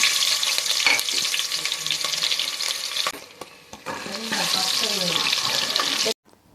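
Sliced onion frying in hot oil with mustard seeds and urad dal in a pressure cooker, a close, busy sizzle with stirring scrapes, briefly dropping out midway, and a voice talking over part of it.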